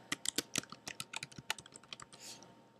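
Rapid keystrokes on a computer keyboard as a password is typed, a quick irregular run of close, crisp clicks with no talking.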